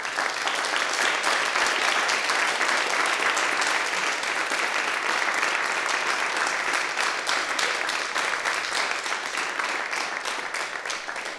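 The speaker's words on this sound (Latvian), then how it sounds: "Vismaz ar aplausiem Anci, dzimšanas dienā" Studio audience applauding a birthday at a live radio session in Latvian Radio Studio 1, a steady dense wash of clapping that holds loud for the whole stretch and tapers slightly at the end.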